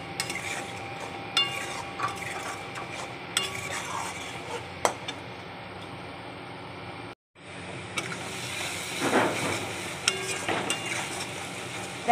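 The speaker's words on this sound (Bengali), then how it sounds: "এখন এটাকে মশলার সাথে সুন্দর করে কষিয়ে নেব।" Potatoes are stirred with spices in a pan, making a soft background sizzle under repeated sharp clinks and scrapes of a utensil against the metal, with a brief moment of silence partway through.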